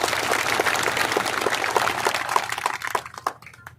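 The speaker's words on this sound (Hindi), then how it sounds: "2000 तालियां हमें बजानी चाहिए" Audience at a farmers' rally in Jhunjhunu, Rajasthan, breaks into dense, close applause that holds for about three seconds before thinning out and fading.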